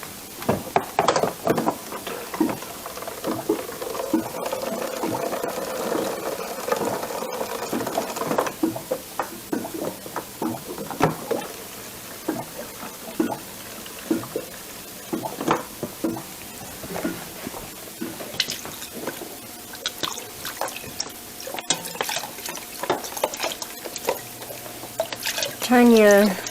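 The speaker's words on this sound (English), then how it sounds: "you can always add a little bit of water to it." Water is poured into a pot of chicken for homemade tortilla soup in a home kitchen, a run of splashes and drips with clinks, heard beneath a person talking.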